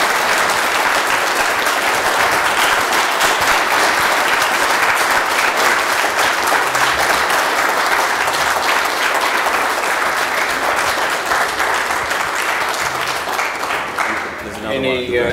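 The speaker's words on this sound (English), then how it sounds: "So I'd like everyone to put their hands together and give you the applause that you deserve." Sustained, loud applause from an audience at an amateur radio association's annual general meeting on the Gold Coast, steady clapping throughout that fades out near the end.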